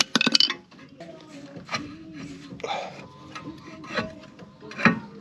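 Metal screwdriver scraping and prying at a rusty brake caliper on a 2004 Audi A6 Avant 1.9 TDI, with irregular close rasping, clinks and scrapes, sharp knocks near the start and end.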